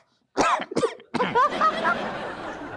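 A person coughs twice in sharp, close bursts, then breaks into a rougher, longer fit of coughing mixed with a laughing breath, loud and alone.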